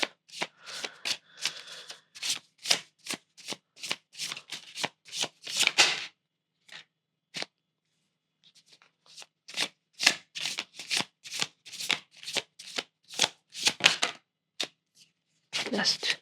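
Tarot cards being shuffled in quick riffling bursts close by, then a pause with a few isolated taps, then more rhythmic shuffling.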